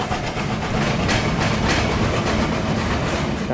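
Kapotaksha Express, its fire-damaged locomotive No. 6602 out of action, being towed slowly along the rails by a relief engine: a steady, loud carriage rumble with faint clickety-clack and a soft hiss, continuous throughout.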